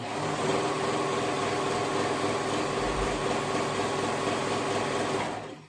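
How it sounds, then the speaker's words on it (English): Sewing machine running steadily as it stitches the inseam of a pair of leggings, a continuous close mechanical whir that holds for about five seconds and then stops, with no talking. "And then we're going to go ahead and sew that."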